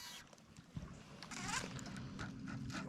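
Outboard boat motor running on a lake during a fishing tournament, a steady low drone with wind and water noise, loud and close throughout.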